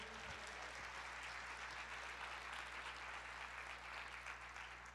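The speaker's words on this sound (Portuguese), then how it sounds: "Você pode aplaudir o Senhor." A church congregation applauds for several seconds, a steady, even patter of clapping heard quietly throughout with no talk.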